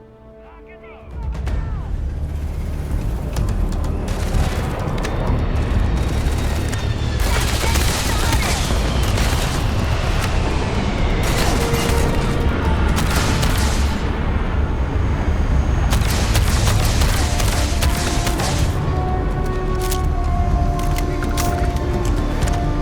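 Sustained heavy gunfire in the space game Starfield as a ship is stormed, with dense rapid bursts and cracking shots running continuously at high loudness, mixed with voices and game effects.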